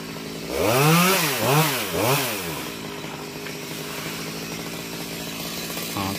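A chainsaw revs up close in three rising-and-falling surges as it cuts through a jackfruit tree branch, then settles into a steady idle.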